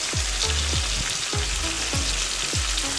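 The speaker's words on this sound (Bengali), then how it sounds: "তারপর কিছুক্ষণ কষতে দেবো" Turmeric, cumin, Kashmiri chili and garam masala sauté in a pan with a constant close hiss of frying, cut by regular scraping stirs about every half second.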